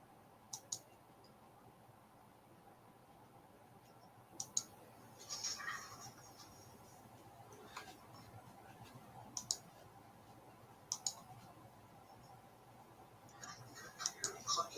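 A computer mouse clicks sporadically, with sharp, close single and double clicks scattered across a quiet room background.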